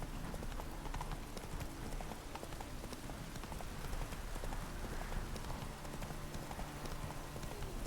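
Roach the horse gallops in The Witcher 3, a steady, rapid clip-clop of hooves that runs throughout over a soft rain-like hiss of background noise.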